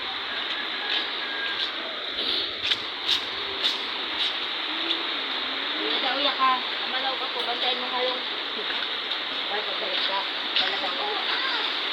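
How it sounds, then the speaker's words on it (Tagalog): Typhoon floodwater rushing through Barangay Ugis, Bato, Catanduanes, a loud steady broadband roar that persists for the whole stretch, with a voice faintly talking beneath it. "Ito yung baha guys."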